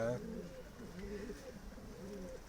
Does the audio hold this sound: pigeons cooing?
yes